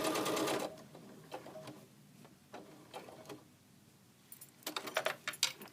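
A sewing machine stitches doll clothes in short bursts, a fast whirring chatter at the start, then scattered clicks and handling taps, and another run of quick stitching at the end, close by.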